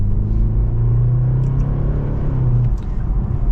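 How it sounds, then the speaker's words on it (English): A 2024 BMW 530i M Sport accelerating on the road, heard from inside the cabin as a loud, steady engine rumble and drone that holds, then eases slightly near the end. "we are setting off now in the new 5 Series"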